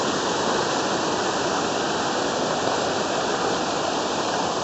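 A mountain stream flows beside a hiking trail on the route via the great waterfall to Mount Ōdake, a steady, close, unbroken rushing of water with no voices over it.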